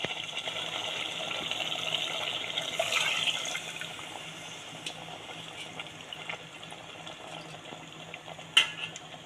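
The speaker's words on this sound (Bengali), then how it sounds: "এখানে আমি গরম পানি অ্যাড করছি।" Hot water pours into a cooking pot of beef with peas, making a gushing, splashing fill for a few seconds. Faint kitchen clinks follow.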